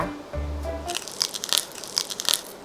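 Crisp bites into a crunchy snack with a marshmallow filling, a few sharp crackling crunches close to the mic after a short low rumble, no talking.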